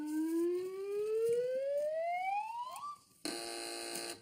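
A television panel game show buzzer sounds first as a rising, siren-like electronic tone. After a short gap it switches to a harsher sustained buzz, loud and with no talk over it.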